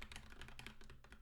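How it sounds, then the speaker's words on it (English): Rapid, irregular keystrokes on a computer keyboard, dense clicking close to the mic throughout the short stretch with no talking. "having a little typing issues today"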